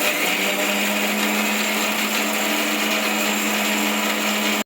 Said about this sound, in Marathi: भिजत घातलेले काजू आणि तांदूळ आहे ते मिक्सरला एकदा फिरवून